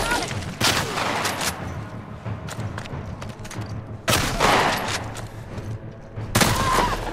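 Bursts of sniper gunfire in The Last of Us Part II roguelike mode crack out in sharp, loud volleys, with several heavy shots around the middle and end, over busy game noise and some talking.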